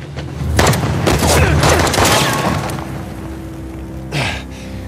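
Gunfire rattles through a firefight in the video game Uncharted: The Lost Legacy, loud clustered shots and booming bursts for a few seconds, then quieter with one more burst near the end.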